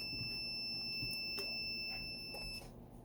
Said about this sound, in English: So it's going to beep.